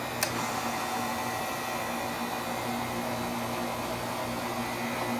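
A concession machine's compressor running during a routine inspection, giving a steady mechanical hum and broadband whir that continues evenly at moderate level throughout, with no voices.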